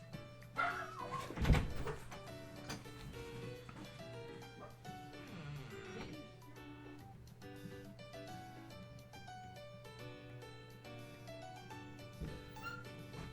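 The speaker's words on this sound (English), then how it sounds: "It's their dog barking up a storm." A neighbor's dog barks loudly in a short burst near the start, then whimpers and yips faintly under steady game music.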